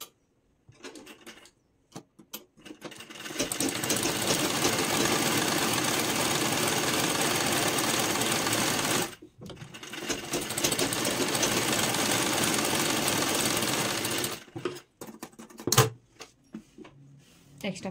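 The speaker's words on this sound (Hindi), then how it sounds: "तो यहाँ पे हमें इसके ऊपर स्टिच लगा लेनी है।" An electric sewing machine stitches a folded fabric strip on a Sabyasachi-style blouse. It whirs in two long, steady runs split by a brief pause, with short quieter stretches at the start and end.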